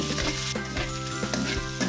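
Sliced onions added to a hot pan and frying, a steady close sizzle broken by the scrape and clatter of stirring, with no talking.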